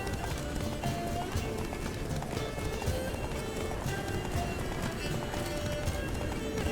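Roach, Geralt's horse in The Witcher 3, gallops in a steady, dense clip-clop of hooves under continuous game music and ambience, with a brief whinny-like touch and some talk over it.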